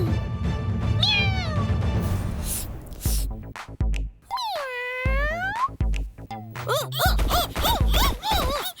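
Loud, drawn-out cat meows from a Hindi children's cartoon, with swooping pitch, including a long wavering yowl and a quick run of short mews, amid music and effects.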